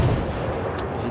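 Warship guns fire in the naval video game World of Warships. The heavy, booming roar is loud and continuous, and a deep rumble fills the whole moment.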